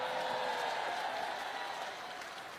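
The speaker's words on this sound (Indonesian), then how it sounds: "Tapi sebenarnya jangan tepuk tangan." An audience at a speech applauds, a dense wash of clapping that starts strong and slowly thins out over a couple of seconds.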